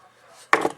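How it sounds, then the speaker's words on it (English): A plastic tie wrap is snipped with one sharp crisp cut, followed by a brief rustle, close and alone after near silence. "Cut the tie wrap without cutting the wire, hopefully."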